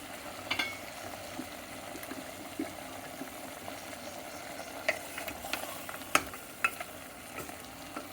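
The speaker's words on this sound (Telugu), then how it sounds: "ఒక 5 నిమిషాలు వేగనివ్వాలండి" Paya salan, a lamb trotter curry mixture, fries gently in a pan with a soft continuous sizzle and occasional light clicks of a spoon stirring, fairly quiet and without talk.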